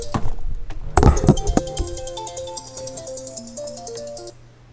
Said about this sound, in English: I'm sorry, I have to take a phone call.